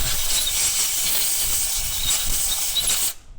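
Compressed air blasts muck out of a Massey Ferguson tractor coupling housing, a loud, steady, close hiss lasting about three seconds before cutting off sharply.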